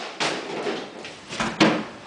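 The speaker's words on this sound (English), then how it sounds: "So I'm going to take the drawer out" A wooden drawer slides out of an old furniture piece with two scraping, rubbing pulls and a final knock, close and fairly loud with no talking.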